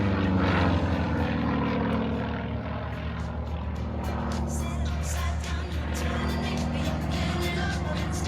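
A piston-engine aerobatic aeroplane flies at an outdoor airshow, its droning propeller engine loud and continuous, with a slightly wavering pitch as it moves overhead.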